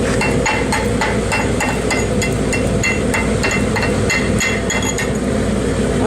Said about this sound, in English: go ahead, deslagify this.